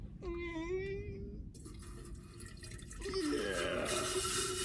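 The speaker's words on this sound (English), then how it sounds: "Let's put the water in." Water splashes and rushes as it is poured into a faulty electric kettle, following a brief tonal whine, with the pouring growing fuller and louder toward the end.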